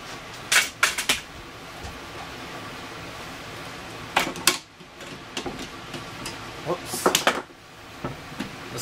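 A wooden filing cabinet drawer slides and seats on its drawer slides in a workshop, making sharp knocks and clunks in clusters with quieter rumbling between them.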